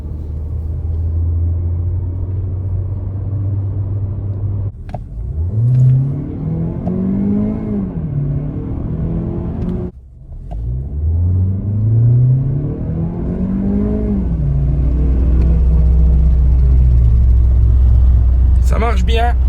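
A Mazda CX-30 engine revs up repeatedly, rising and falling in pitch through several gear pulls with a steady road rumble beneath, loud and close from inside the car, while someone speaks over it.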